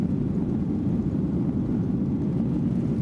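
Airplane in flight over the Gissar mountains in Tajikistan, a steady loud low engine drone and rumble filling the cabin continuously with no pauses.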